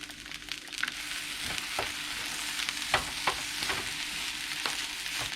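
Corn fried rice sizzles in a pan with soy sauce, a continuous close frying hiss punctuated by repeated sharp stirring and tossing clinks.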